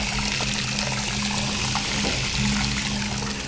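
Cold water pours over a dog's feet during a bath, a loud, steady splashing stream running continuously close by, with no voices over it.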